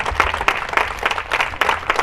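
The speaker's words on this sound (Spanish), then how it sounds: "Dele palmas a nuestro Redentor." A church congregation claps steadily through a Sunday service, the rhythmic applause filling the room with a low hum of voices underneath.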